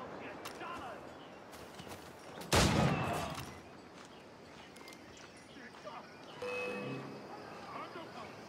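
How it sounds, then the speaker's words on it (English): Musket fire from riflemen on a high perch in the pirate game Assassin's Creed 4 Black Flag, with one loud shot that fades out, then a second, weaker blast amid scattered battle noise. "riflemen that are on a high perch, because they will essentially just fire until they die"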